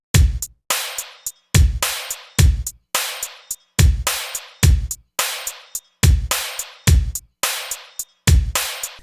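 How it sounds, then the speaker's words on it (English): A basic New Jack Swing drum beat from a VST plays alone in a steady looping pattern, punchy kicks and sharp snares with crisp hats repeating evenly across the bar. "Now the basis is actually a relatively vanilla drum beat,"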